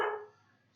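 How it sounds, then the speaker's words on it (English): A dog gives a single short, sharp bark in the background that quickly fades, followed by faint hiss. "that's my dog in the background"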